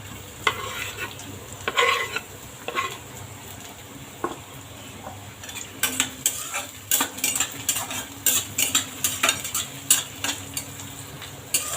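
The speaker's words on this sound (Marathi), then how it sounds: "छान लाल होऊ द्या आता कांदा जरासा अजून." Chopped onion and green chilli sizzle in a pan, spoon scraping and stirring in sharp repeated strokes that grow busier toward the end, with a steady frying hiss underneath and no voices.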